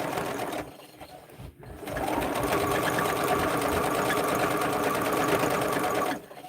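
A sewing machine stitching a drunkard's path quilt block runs in short bursts, then settles into a long, steady, close whirring run of rapid needle strokes before stopping.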